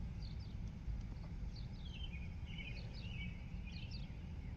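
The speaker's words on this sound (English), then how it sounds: "the sound of the birds is really beautiful" Outdoor morning birdsong, several faint chirping and trilling calls repeating in short bursts over a steady low background rumble, distant and quiet with no talk.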